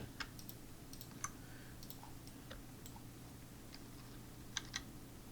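Computer keyboard typing at a faint, quiet level, scattered soft clicks and a few sharper taps over low background hum.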